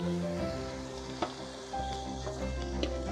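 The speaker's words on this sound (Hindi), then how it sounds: "अब इसमें टमाटर डाल देते हैं" Tomatoes hit a hot, heavy pan of garlic and ginger masala and sizzle close up over low heat, a steady frying hiss with a few light stirring clicks.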